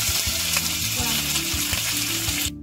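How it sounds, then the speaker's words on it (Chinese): A chicken thigh fries skin-side down in a hot pan with oil, giving a loud, steady, dense sizzle that hisses without a break, then drops away sharply near the end. "把鸡皮朝下放入锅里， 煎的时候稍微压一压"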